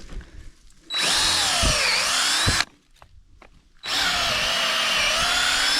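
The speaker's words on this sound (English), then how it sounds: "I'm gonna drill from the back." Power drill boring into wood outdoors while building a tower, two loud sustained whining runs with the motor pitch dipping under load, separated by a short pause, close to the listener.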